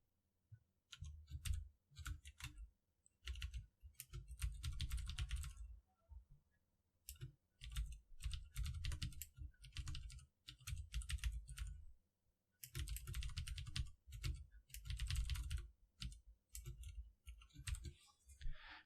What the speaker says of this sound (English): I can type something like this.